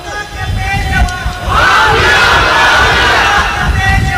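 A large crowd roars a religious slogan in unison, a loud, sustained collective shout that swells midway and holds to the end.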